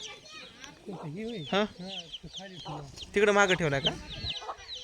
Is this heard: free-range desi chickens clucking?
yes